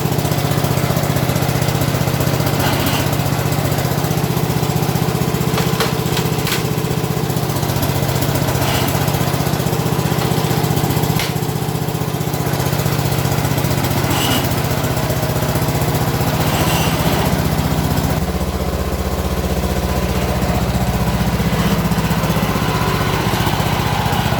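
A John Deere lawn tractor engine runs loud and close for the whole stretch, a steady throbbing drone with a slight drop in pitch late on as it shifts load.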